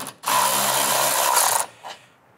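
A power tool spins out a 10mm bolt on a Silverado AC condenser, a loud close whir running steadily for over a second before cutting off, followed by a brief second burst.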